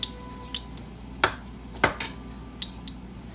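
A spoon scraping and clinking against a pot while spices are mixed into a one-pot chicken biryani, a few sharp metallic knocks spaced over a quiet background with no talking.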